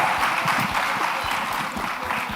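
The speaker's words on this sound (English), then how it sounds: "Please, a round of applause as we" Conference audience applauding a youth panel as it leaves the stage, a steady wash of clapping with a few low thumps, moderately loud and continuous for the whole short stretch.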